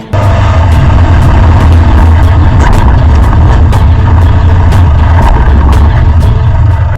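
A lifted Toyota Hilux Vigo pickup on an 8-inch lift drives over a small jump, heard from close inside as a loud, continuous engine and road rumble with scattered sharp knocks and rattles.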